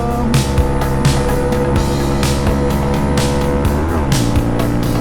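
A small Honda Grom motorcycle on a quick ride, its buzzing engine loud and close with pitch rising and falling through gear changes, over steady wind rush, no voices.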